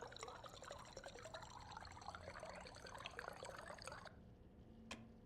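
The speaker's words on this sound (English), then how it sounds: "Ah, the sound of water filling." Water filling a container in the Stationeers survival game, a steady close trickling and splashing pour with small drips, then cutting off abruptly and leaving a faint single tick.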